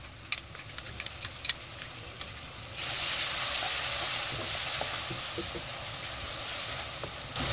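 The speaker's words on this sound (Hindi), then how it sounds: "अब हम इसमें लहसुन और अदरक का पेस्ट डालेंगे।" Ginger-garlic paste hits lightly browned onions for keema with a soft sizzle and a few stirring ticks, then swells into a louder, sustained frying hiss partway through, close up and without speech.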